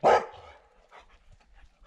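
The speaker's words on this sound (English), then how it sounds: "Are you barking about those mosquitoes?" A single sharp dog bark up close, followed by quieter snuffling and faint rustling.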